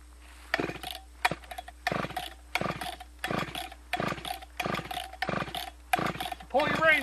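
Chainsaw being pull-started after sitting unused for a while, with the choke pulled: about ten sharp, rhythmic recoil-cord pulls in a row, close and loud over a steady low hum, ending in a brief sputter.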